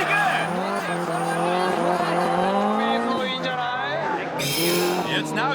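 Drift car accelerating and sliding at Nikko during a D1SL event, a loud revving engine with rising and falling pitch and squealing tires, with a commentator talking over it.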